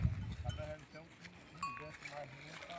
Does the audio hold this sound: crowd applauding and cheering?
no